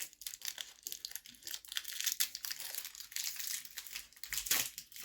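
Crinkly plastic wrapper of a small wafer biscuit torn open by hand, a steady run of close, bright rustles and crackles over five seconds with no talking.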